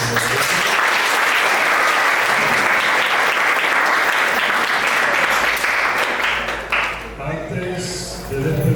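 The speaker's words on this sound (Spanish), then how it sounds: "un fuerte aplauso para nuestro profesor" Sustained audience applause for a professor at a university innovation fair talk, loud and dense for about seven seconds before thinning into scattered claps and murmuring voices.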